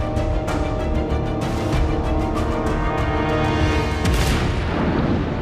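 The main guns of the battleship Yamato boom in a dense, continuous barrage of heavy, loud blasts, rumbling deep and unbroken for several seconds.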